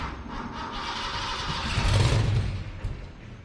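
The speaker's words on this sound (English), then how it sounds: "Already heard an exhaust leak." A Ford Mustang Fox Body engine runs with a rough, raspy exhaust note from an exhaust leak, swelling louder midway before settling back to a steady drone.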